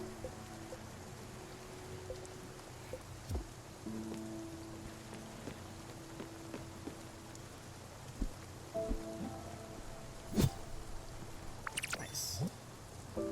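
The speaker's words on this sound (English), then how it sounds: "Free rain, appreciate it for my crops." Steady rain falls in the Spiritfarer video game, a soft continuous patter with scattered louder drops and faint tonal game sounds layered underneath, heard alone without talk.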